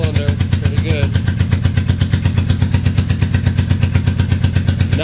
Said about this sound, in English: So it's still running on that back cylinder pretty good.